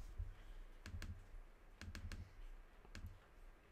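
Keys on a computer keyboard tapped in three short bursts while typing a title, each burst a quick cluster of clicks separated by brief pauses, fairly close and quiet over a low background hum.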